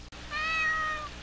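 A cat meows once in the Ao Oni horror video game: a single clear, drawn-out meow of about three-quarters of a second, loud and close against a low background hum.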